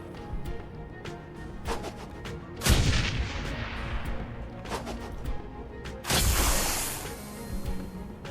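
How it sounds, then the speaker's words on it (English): A grenade launcher fires in the Shadowrun Hong Kong video game, two heavy booming blasts a few seconds apart, each with a rumbling tail, amid lighter clicks and scattered combat effects. "Oh, the grenade launcher."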